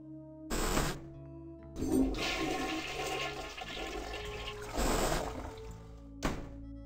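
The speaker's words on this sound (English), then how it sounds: "So, flush three times, you say?" Toilet flushes in the adventure video game I Have No Mouth, And I Must Scream, heard as three separate rushing-water bursts with thunks and gurgling trickle between them, fairly close and clear.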